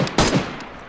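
Gunfire in a video game battle: a loud burst of several rapid shots near the start, then fading reverberant echoes and fainter distant pops.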